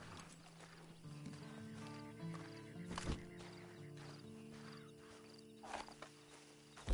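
Horse in Red Dead Redemption 2 walking with quiet clip-clopping hooves, a sharp snort or whinny about midway and another at the end, faint against a low background hum.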